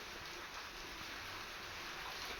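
Steady rain falling at the Matsyodari Devi temple in Ambad, a continuous soft hiss of drops filling the whole clip with no voices.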